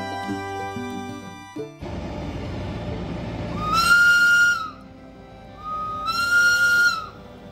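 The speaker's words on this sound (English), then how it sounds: "That may be the most obnoxious train whistle I've ever heard." Train whistle near the Pikes Peak summit, two loud, long, shrill blasts in close succession that sound fairly near, over a low rumble and after a short stretch of music, with no voices.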